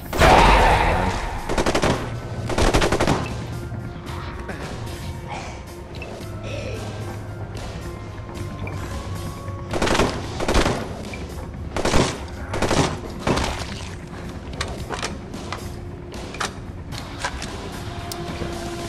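Bursts of gunfire from a weapon in the video game ZombiU, scattered through a busy game soundscape, with the loudest cracks near the start and mid-clip, some rapid strings and others single shots.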